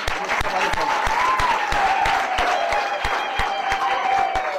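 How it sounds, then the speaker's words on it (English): Wedding guests clapping for the couple, with a scatter of distinct sharp claps standing out over a steady bed of crowd applause, a faint sustained tone running underneath. "Let's clap hands for them."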